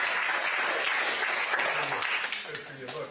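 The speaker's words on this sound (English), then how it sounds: "Give her a round of applause for a lot of people." A crowd at an Iowa campaign event for a politician breaks into steady applause, a dense wash of clapping that carries through and tapers near the end, with a voice speaking over it.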